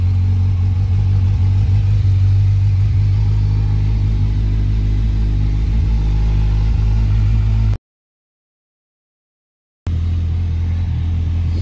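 A Kawasaki Z1000SX motorcycle idles close by to warm its engine oil, a loud steady low rumble held throughout, cut by a brief silent gap before the same idle resumes.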